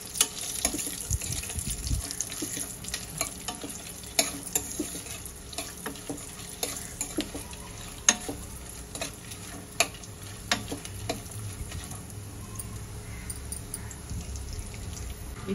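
Coconut pieces and dry fruits sautéing in a pan for a coconut milk pulao, a low continuous sizzle with scattered light clicks and taps of a utensil, fairly quiet and steady.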